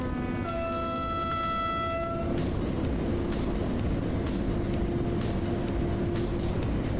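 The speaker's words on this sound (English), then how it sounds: "We got a freight train." A freight train hauling coal passes in the MaSzyna train simulator game, starting with a sustained horn-like tone that gives way to steady rolling rumble with rhythmic clacks of wagons over the rails.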